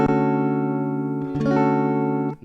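A barre chord on guitar, held from the fifth string to the first, is strummed once and rings out loud and sustained, then a second strum follows about halfway through and sustains until the clip ends.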